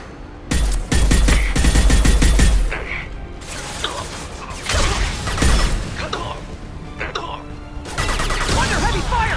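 Gunfire in a Mass Effect 2 firefight, with bursts of rapid shots, mechanical clatter and impacts stacking up over a loud, busy battle mix. Intense stretches alternate with quieter gaps, and voices are heard in the mix.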